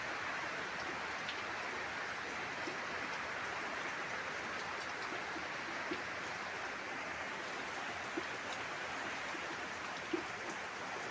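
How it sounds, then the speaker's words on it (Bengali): Heavy downpour falling outdoors near a house, a dense, even hiss of rain that holds steady and fairly faint throughout, with a few scattered drop ticks and no talk. "প্রচণ্ড বৃষ্টি পড়ছে"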